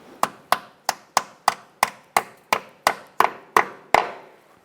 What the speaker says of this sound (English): Might have to tap it with a hammer.